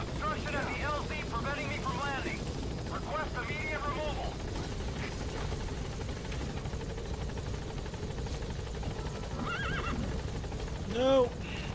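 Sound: horse neighing in video game Metal Gear Solid V

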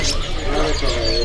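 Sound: cipow birds at a bird market

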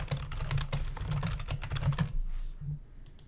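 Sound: typing a title on a computer keyboard

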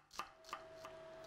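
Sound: chopping a shallot finely

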